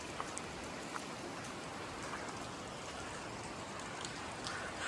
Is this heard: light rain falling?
yes